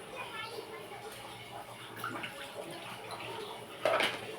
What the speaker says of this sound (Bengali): বেশ খানিকটা জল আমি দিয়ে দিলাম